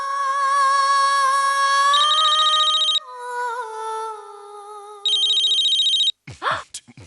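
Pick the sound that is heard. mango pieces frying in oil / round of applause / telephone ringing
telephone ringing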